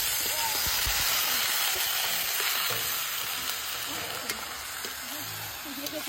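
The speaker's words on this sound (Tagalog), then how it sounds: "Ilagay na natin yung ating karne." Meat sizzling and frying in a pan with garlic, onion and ginger for Bicol Express, a steady loud hiss throughout with some stirring, while voices talk faintly underneath.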